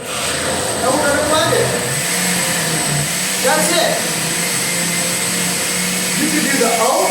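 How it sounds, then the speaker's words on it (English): A blender whirs steadily as almonds are blended into almond milk, a loud, constant motor drone up close, with a person talking over it at times. "We're going to flip it on, and we're going to blend it"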